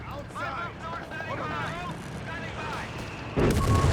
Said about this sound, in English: That heavy mortar is doing an excellent job.